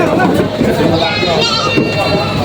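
Goats bleat at a busy livestock market in Padre Garcia, Batangas, wavering cries rising over a constant babble of traders' voices and crowd noise.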